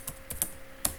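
Code typed on a computer keyboard, four or five sharp key clicks in an uneven rhythm, close and fairly quiet, with no talk.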